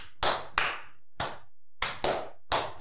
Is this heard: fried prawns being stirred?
no